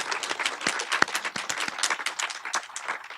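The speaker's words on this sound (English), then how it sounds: "Let's give her a round of applause" Applause from an audience at a legislative event on a film-industry bill, dense steady clapping filling the whole stretch at moderate loudness, with no talking over it.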